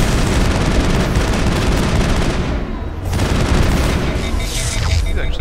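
Loud, close gunfire in Mass Effect 1 on Noveria, overlapping automatic bursts and heavy booms hammering continuously, with a short lull midway and voices shouting in the mix.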